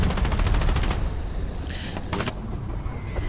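Machine gun fire from a pillbox in a Foxhole war battle, a close, rapid burst of evenly spaced shots, then a brief pause and a second shorter burst, over rumbling battle noise.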